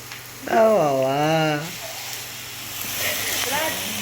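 Eggs frying for egg bhurji give a faint, steady sizzling hiss that runs throughout, partly covered by someone talking nearby.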